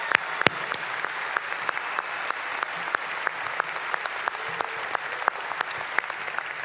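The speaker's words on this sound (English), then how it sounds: "Let's give them a nice round of applause." A large crowd at a fall university commencement ceremony applauds for faculty, a dense, even wash of clapping with sharper individual claps standing out, sustained throughout.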